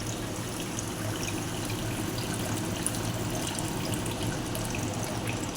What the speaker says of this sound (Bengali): এবার আমি মশলা বাটি ধোয়ার জল দিয়ে দিলাম।